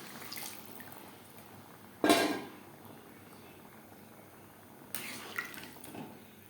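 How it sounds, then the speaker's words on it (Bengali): Spiced water poured into a pot of browned mutton curry, heard as a short burst of splashing and hissing, then a second, quieter pour with a few clinks. "দিয়ে দেব জল আমি এখানে মশলা দেওয়া জল ব্যবহার করলাম"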